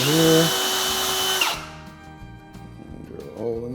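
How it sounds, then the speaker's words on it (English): A power drill whines loudly for about a second and a half drilling a hole in wood for DIY drawers, then cuts off, leaving quieter clatter and handling noise. "Just gonna drill a hole here."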